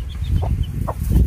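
Young chickens, grown from chicks, cluck softly in a coop, a couple of short clucks over a low, close rumble of background noise.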